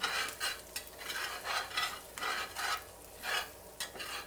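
Flour scraped and stirred around a hot Lodge cast iron skillet, a series of rhythmic rasping strokes roughly every half second with a faint sizzle beneath, close and alone without speech.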